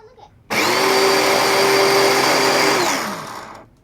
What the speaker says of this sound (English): You can hear the metal gears.